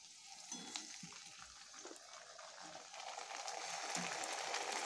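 Ginger garlic paste hits hot oil in a pan where fish has already been fried red, giving a steady, soft hiss that swells slightly toward the end, with no talking over it.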